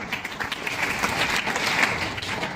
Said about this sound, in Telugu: అందరూ ఒకసారి చప్పట్లు కొట్టండి.